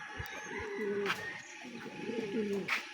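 Pigeons coo softly in low, rolling calls, repeated a few times at moderate distance against faint background noise.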